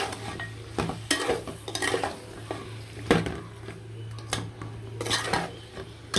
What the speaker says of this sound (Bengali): মাংসগুলো দিয়ে দিলাম দিয়ে ভালো করে লাগাচাড়া দিয়ে দিলাম